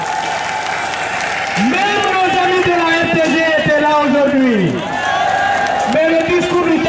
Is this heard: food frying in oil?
no